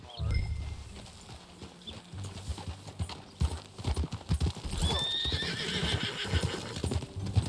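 Horse hooves clip-clopping with a whinny from a ranch horse in Red Dead Redemption 2, the steady hoofbeats carrying throughout alongside other game sounds, with a neigh rising near the end while a voice speaks.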